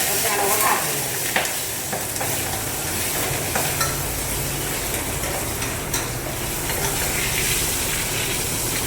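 Green chilies are stirred and fried in hot oil, a loud, continuous close-up sizzle with steady scraping and occasional spoon clinks, no talking.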